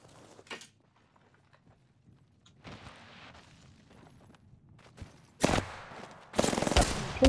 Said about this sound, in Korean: 총소리였다 총이야